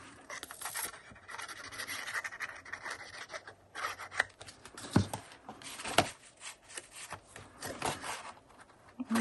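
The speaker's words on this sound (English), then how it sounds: "so let's glue this front part on" Paper is glued and rubbed down onto the front of a handmade paper folio, giving soft, uneven scratchy rubbing and brushing strokes with a few sharper taps, close and fairly quiet.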